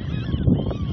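Birds over the trees in a provincial park in Alberta give a brief, loud honking call, heard close and alone.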